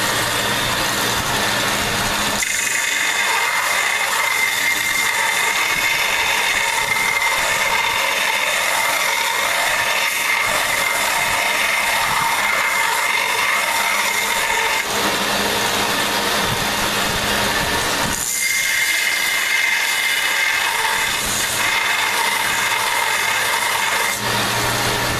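A power tool grinds a burr off an old axe head, running as a continuous steady whine and rumble. Brief dips in the noise come where contact with the steel changes, and no talking can be heard.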